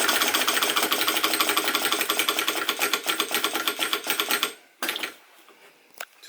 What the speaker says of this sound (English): you can hear the engine go faster as soon as the tension's off.